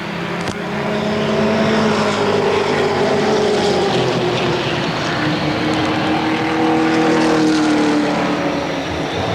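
Race cars roar around the Motordrome Speedway oval during a 1992 race under green with nine laps left, a loud, sustained engine drone whose pitch sweeps up and down as cars pass.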